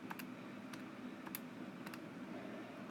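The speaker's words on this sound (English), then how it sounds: "So I'm going to type that in." Keys on a handheld calculator are pressed in a quick irregular run of light plastic clicks, with a few sharper taps standing out over faint room hiss and no talking.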